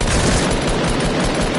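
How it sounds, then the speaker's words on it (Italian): Dense, continuous gunfire in the video game Fortnite, a loud unbroken rattle of rapid shots filling the whole moment without talk. "Che faccio, sparo? Sì."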